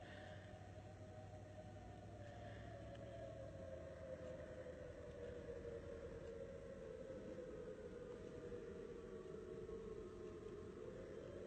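A tsunami warning siren sounding after an 8.0 earthquake in Alaska, a steady distant wail holding a sustained pitch that slowly drifts lower, heard faintly over a low constant rumble with no voices.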